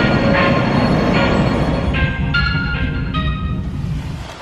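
A train rolling along rails in Sweden gives a loud, steady rumble throughout, with brief squealing wheel tones rising over it. No one speaks.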